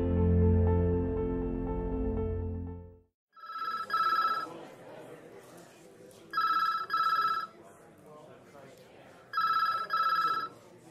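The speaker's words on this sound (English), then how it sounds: "The phone rings yet again in the busy precinct." A telephone rings three times in a busy police station, bright repeated trills separated by pauses, following a loud sustained tone at the start.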